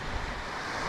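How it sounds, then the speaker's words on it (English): Ocean waves wash up a beach at Barra de Navidad, Mexico, a steady broadband rush of surf mixed with wind noise on the microphone, continuous and close. "Not the odd big wave that washes way up the beach."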